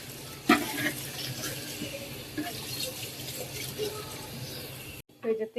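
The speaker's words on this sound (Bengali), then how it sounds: "এই যে তেহারির মধ্যে পানি দুধ দিয়ে দিছি" Milk and water poured into a pot of tehari rice, a soft close trickling and splashing pour that stops near the end, with a voice speaking faintly over it.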